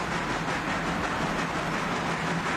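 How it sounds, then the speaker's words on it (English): A weak locomotive in a video game hauls a heavy coal train from the mine, producing a steady, loud rumbling rail roar with faint clattering and no talk. "We try and use the weakest locomotive in the game"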